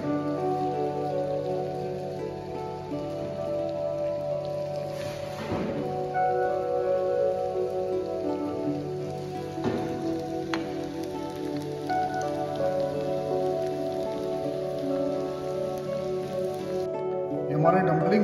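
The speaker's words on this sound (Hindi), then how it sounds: "उसके बाद दोबारा एक बार फिर फ्राई करेंगे।" Potato dumplings deep-fry in hot oil, giving a steady, dense crackling sizzle like rain that runs throughout at moderate volume, with a few brief knocks along the way.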